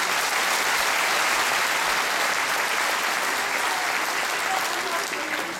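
An audience at a constitutional forum in Ankara applauds: thick, continuous clapping from a large crowd, steady and loud throughout, with a faint murmur of voices mixed in.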